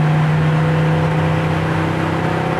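A steady, loud engine drone holds close by, a 1975 Chevrolet Nova with a 262 V8 pulling through the gears under power with a constant whirring tone and no voices.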